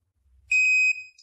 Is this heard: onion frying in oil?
no